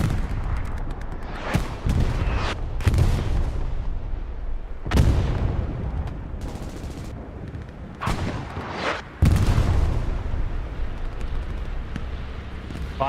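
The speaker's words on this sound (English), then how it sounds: "bomb runs coming down for Legion" Bomb run explosions in the Hell Let Loose video game on Utah Beach, a series of heavy booming blasts and deep rumbling impacts landing one after another, loud and close, with gunfire between them.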